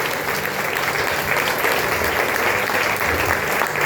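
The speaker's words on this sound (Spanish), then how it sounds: "Bríndele un fuerte aplauso al Señor por eso." A worship congregation bursts into strong, continuous applause for the Lord during a revival service, loud and dense from start to finish.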